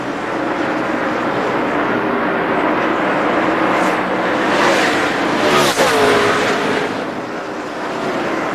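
NASCAR stock cars race at the 2002 UAW-GM Quality 500, their engines a loud, continuous roar that swells as cars sweep past near the end.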